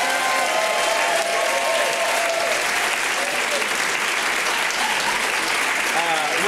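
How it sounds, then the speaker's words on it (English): Audience at the Dynamite PDX comedy show applauds the ASL interpreter, a dense, steady round of clapping and crowd noise filling the whole stretch at even loudness, with faint voices mixed in. "I do want the biggest round of applause for our interpreter."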